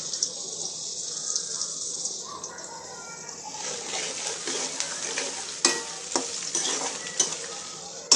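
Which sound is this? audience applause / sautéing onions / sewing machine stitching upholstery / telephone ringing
sautéing onions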